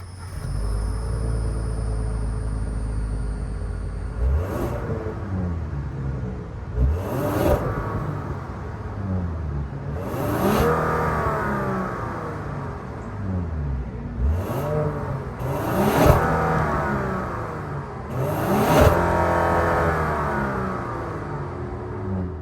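A 2023 Genesis G90's 3.5-liter twin-turbo V6 revs repeatedly, rising and falling in several sharp bursts over a steady low idle rumble, close and loud.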